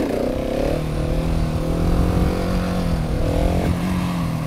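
A learner rides a motorcycle and its engine drones steadily and close throughout, the pitch rising and falling with small shifts in throttle, and no one speaks over it.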